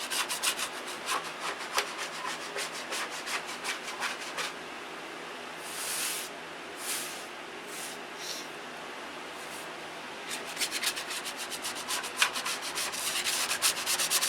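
Clear coat on an aircraft registration-number repair is hand-sanded with 5000-grit sandpaper. Quick rhythmic back-and-forth rubbing strokes run close and steady, ease into softer, slower passes midway, then pick up again.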